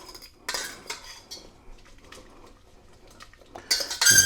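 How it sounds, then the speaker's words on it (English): A fork scraping and clinking against a pan while stirring glazed carrots, with scattered light taps and rattles and a louder burst of clattering scrapes at the end, close-up and fairly soft. "Sorry for the fork noise."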